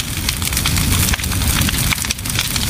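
A large outdoor bonfire at a summer solstice night gathering, with people standing in a ring around it, burns with a dense, continuous roar and crackle, loud and close, with no talk heard.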